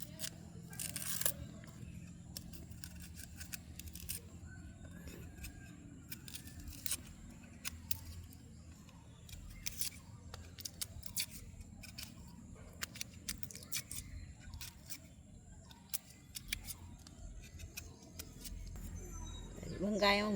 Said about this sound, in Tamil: வெங்காயத்தை முறிப்பேன்.